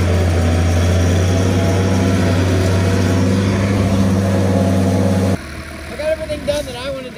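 A tractor tilling ground for oats runs with a steady low engine drone and strong hum for about five seconds, then cuts away abruptly to a quieter stretch where someone speaks.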